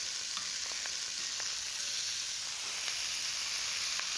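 German sausages fry in a pan with a constant, bright sizzle and faint crackles, loud and even throughout.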